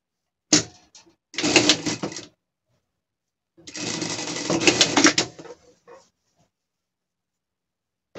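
Sewing machine running zigzag stitches on fabric for a pet gaucho costume, in two bursts of steady whirring with a pause between, fairly close and with no talking.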